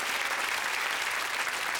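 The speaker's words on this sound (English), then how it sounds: "Give Sooty a round of applause." An audience breaks into continuous applause, a dense, even wash of clapping from a crowd after Sooty's magic trick, loud and unbroken with no voices over it.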